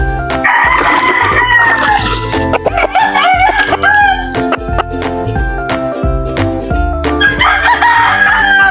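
A fighting rooster of Boston breed crows loudly and close several times in succession, its long strained calls standing out over a busy background of clucks, jingling and farmyard clatter.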